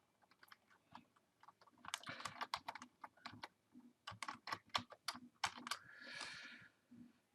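A computer keyboard is typed on nearby in quick irregular bursts of crisp key clicks, with short pauses between runs and a soft rustle near the end.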